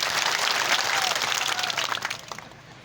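A crowd applauds at a ground-breaking ceremony, dense clapping that holds steady and then thins and fades toward the end, with no voices over it.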